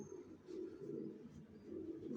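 Original Johnson racer pigeons in a loft coo softly in low, rolling pulses that repeat several times, faint and with no voices.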